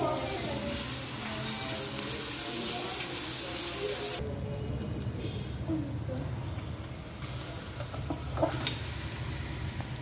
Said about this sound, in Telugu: వేసిన తర్వాత కొంచెంసేపు ఆగి మ్యారినేట్ చేసి పెట్టిన చికెన్ కూడా వేసేసారండి